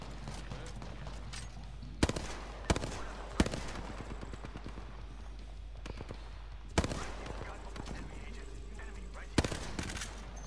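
Video game gunfire crackles in short bursts and single sharp shots scattered over a low steady hum, fairly quiet overall.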